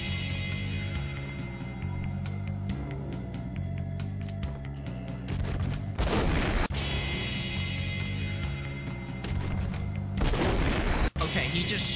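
Gunfire and heavy explosive blasts from a rocket launcher fired by an enemy in the Max Payne video game, with rapid shots over droning game music and two loud, broad bursts near the middle and end.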